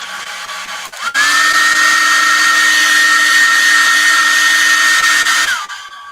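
A hair dryer blows steadily on a painted balloon to dry its glitter, switching on loudly with a rising whine, holding an even roar for about four seconds, then cutting off.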